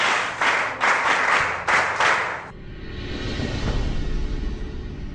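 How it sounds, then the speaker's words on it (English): Audience at a 50th birthday celebration claps in short bursts for a few seconds, then the clapping stops and a low murmur of room noise takes over. "Clap for him."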